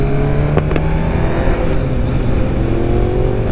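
A loud Kawasaki ZZR1100 motorcycle engine drones steadily, broken by two quick sharp backfire pops from the exhaust early on.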